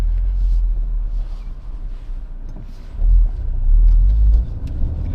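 Ford Focus RS in race mode with firm dampers, engine rumbling from inside the cabin, a low steady drone that swells twice as it accelerates.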